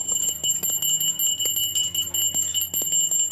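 A bell rings steadily and brightly for the whole stretch, with sustained metallic ringing tones during a Makar Sankranti festival scene in a Marathi TV serial.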